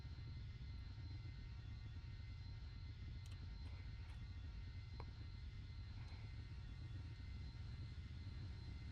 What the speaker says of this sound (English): the plane's a bit quieter now